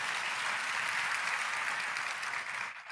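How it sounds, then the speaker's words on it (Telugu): A congregation claps together steadily for three seconds at a church service, a dense, even wash of many hands close by, easing off briefly near the end. "వీళ్ళు చప్పట్లు కొట్టి దేవుని మహిమపరచండి"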